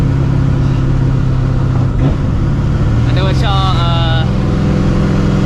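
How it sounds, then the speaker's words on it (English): A supercharged 2V Mustang GT engine rumbles steadily while a rising, whistling blower whine swells and falls twice, with someone talking over the drone. "so you will get that exhaust chop in the back, and you'll get that blower chop"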